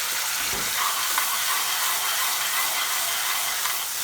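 Tomato puree paste sizzling in a hot curry pan for a garlic chicken Madras, a bright continuous hiss close by with a faint knock near the start.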